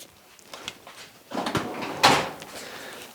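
A drawer slides open and shut in a workshop during a search for a heat gun, with a few soft scrapes followed by a louder clunk and rattle close by.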